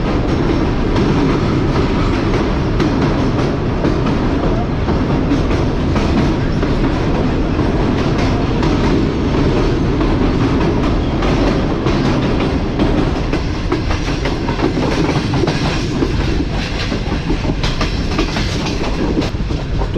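The Tezgam passenger train rolls at restricted speed over the Ravi bridge, a steady loud rumble of wheels and carriages with rhythmic clatter throughout, heard from on board.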